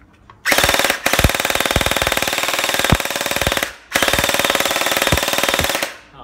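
An HK UMP45 toy blaster with a Gen8 gearbox fires loud, rapid full-auto bursts close by. A long burst of about three seconds is followed by a short pause and a second burst of about two seconds, with a whirring rattle between shots.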